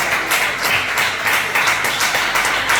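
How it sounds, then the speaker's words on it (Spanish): A church congregation claps steadily throughout, a dense continuous round of applause heard up close and loud, with no voice standing out over it. "Dale un fuerte aplauso al Señor."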